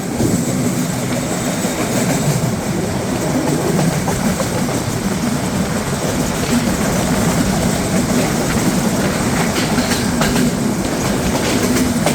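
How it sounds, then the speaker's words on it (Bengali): A train arriving at Chatmohar railway station in Bangladesh rumbles loudly and steadily nearby, with rhythmic clickety-clack of wheels on rails throughout and no voices. "ট্রেনটি এসে প্রবেশ করলো চাটমহর রেলওয়ে স্টেশনে"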